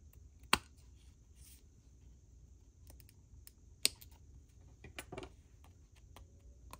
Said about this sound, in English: I just have to cut this off.